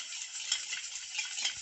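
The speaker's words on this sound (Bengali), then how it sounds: "এইভাবে ভালো করে মিশিয়ে নিতে হবে যতক্ষণ না চিনি গলে যাচ্ছে" Liquid cake batter ingredients, oil and sugar, stirred in a cup with a steady soft swishing and faint scraping, continuous and close with no pauses.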